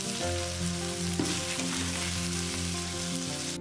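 Tomato pieces stir-frying with potato, carrot and wood ear mushroom in a hot wok, a dense continuous sizzle with tonal ringing and occasional scraping stirs, no talking.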